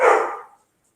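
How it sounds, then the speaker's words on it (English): A single sharp bark from a dog indoors, close and fairly loud, cutting off quickly into silence. "That's Delilah barking."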